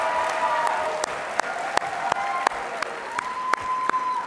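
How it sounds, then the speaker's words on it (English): A convention audience applauds in a steady wash of clapping, with sharp, regularly spaced knocks cutting through and a faint tone running underneath. "Let's give your alumni candidates another round of applause."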